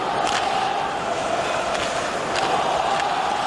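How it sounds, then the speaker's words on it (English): Steady roar of a hockey crowd at TD Garden in Boston during a Canucks–Bruins NHL game, a continuous distant wash of cheering with no single voices standing out. "Luongo, the cheer from the crowd."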